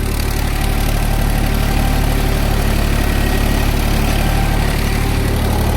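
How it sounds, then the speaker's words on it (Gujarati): A tractor engine runs loud and steady at working revs, a constant low drone near the microphone. It is fitted with a rotavator for a pigeon pea field, and no talk is heard. "ટ્રેક્ટર કેટલા આરપીએમ ઉપર હાલે છે ને તમને દેખાડું"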